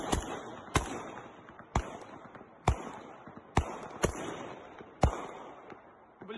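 Gunfire aimed at a drone over Kyiv sounds as sharp single shots, about seven cracks spaced roughly a second apart, each ringing out briefly at a moderate distance outdoors.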